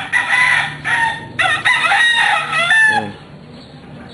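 A round-headed, straight-combed gamefowl rooster crows loudly and close by in a few drawn-out calls mixed with clucks, and a person briefly says a word near the end.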